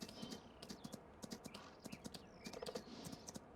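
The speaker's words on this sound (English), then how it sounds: "The clippity clop of the horse." Horse hooves clip-clop in Farming Simulator 19 on a horse farm, a quiet, irregular run of light knocking steps with faint chirps from birds in the background.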